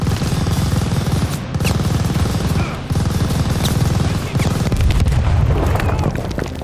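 Sustained rapid machine-gun fire rattles loudly and almost continuously, with a couple of brief gaps, amid explosions and shouting voices in a WWII-era shooter game on PS5 Pro, Operation Tonga mission.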